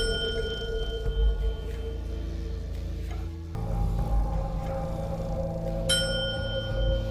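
Hector Salamanca's small desk bell rings in repeated dings amid quiet room tone in a Breaking Bad scene.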